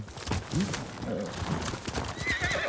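A horse in the game Ghost of Tsushima gallops with steady clip-clopping hooves and lets out a whinny, the hoofbeats rhythmic and fairly close under faint background game ambience.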